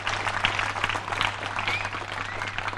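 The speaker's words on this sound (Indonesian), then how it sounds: "Itu tepuk tangan dulu yang pertama." An audience at a spiritual talk in Bali claps together in a brief burst of dense, even applause, with a low electrical hum running underneath.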